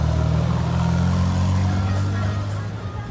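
A deep, steady Ferrari 458 Speciale engine rumbles close by as the car arrives in a square in Monaco during the F1 Grand Prix, with a low throbbing drone and faint background chatter mixed in.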